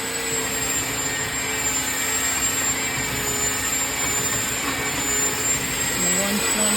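A palm sander works over bare logs with coarse grit, giving a steady, unbroken high whir and hiss throughout.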